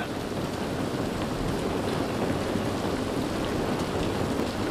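Heavy rain pours down in The Last of Us Part 1, a dense, steady hiss of drops drumming on surfaces, loud and unbroken throughout with no voices.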